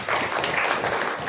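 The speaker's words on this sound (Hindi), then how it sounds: "ताली बजाओ" A group claps hands in a short burst of dense, loud applause filling the space, with no speech over it.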